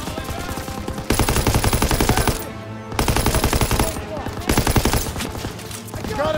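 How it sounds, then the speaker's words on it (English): Machine gun fire in the Call of Duty: WWII video game comes as loud, continuous rapid bursts broken by brief pauses, with game noise throughout. "Gotta suppress the machine gun!"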